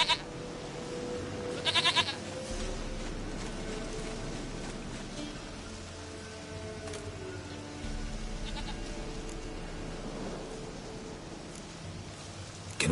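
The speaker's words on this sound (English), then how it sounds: "Goat of mine, dearest, sweetest goat." A goat in The Witcher 3 gives a couple of short, nasal bleats near the start, set against steady rain and low ambient game background.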